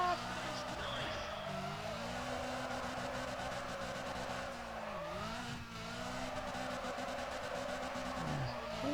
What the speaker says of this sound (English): Oh, nitrous drift!